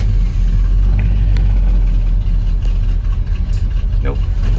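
A Chevy C10 engine runs roughly at idle, a loud, close, unbroken low rumble for a few seconds, with a voice faintly underneath.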